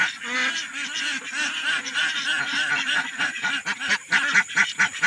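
Ducks quacking close by in a dense, overlapping chorus of nasal honks and chatter that rises into a burst of rapid calls near the end, loud and with no one talking.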